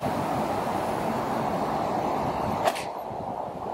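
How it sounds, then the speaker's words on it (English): Strong wind buffeting across an open golf course, a steady broad rushing roar with one brief sharp gust or knock near the end and no voices. "It's just because the wind though, because it's a quite a strong wind"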